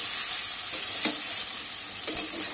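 Singi fish being stir-fried in a pan until well browned, a steady close sizzle broken by a few scraping stirs of the spatula, with no voices.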